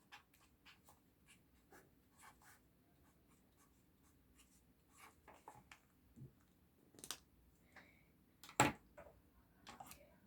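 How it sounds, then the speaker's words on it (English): Numbers are written by hand with a pen or pencil on paper, giving faint, close, scratchy strokes in short bursts, with one sharper tap near the end. "I'm going to write both of my numbers"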